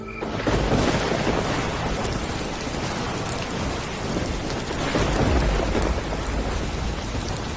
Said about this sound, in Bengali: আমার মনের ভেতরের মতো বাহিরেও প্রচুর ঝড় বৃষ্টি শুরু হলো